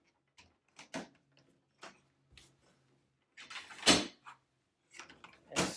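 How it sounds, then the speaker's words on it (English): Sparse plastic clicks and light clatters as the door of a chick brooder cage is opened and handled, a handful of quiet, close knocks separated by silence. "Simply open your cage door."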